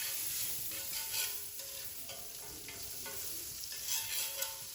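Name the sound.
butter sizzling on a griddle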